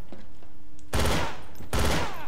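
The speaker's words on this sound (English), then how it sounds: "We're just gonna shoot the hostages first." Two loud close bursts of rapid automatic gunfire in the video game Counter Knife as hostages are shot, each lasting under a second, separated by a brief quieter pause with a faint tone.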